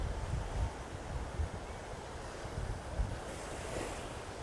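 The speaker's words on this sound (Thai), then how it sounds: "ดูเนี่ยคลื่นแรงด้วยโอ้โห" Strong sea waves crashing near the cape, heard as a continuous loud roar of surf with wind buffeting the microphone and periodic low thumps of breaking water, no talking.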